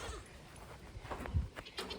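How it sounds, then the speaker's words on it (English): Goats on a farm bleat for their bottle feeding, a few short nearby cries rising over faint background noise. "all the goats are yelling at me to feed them"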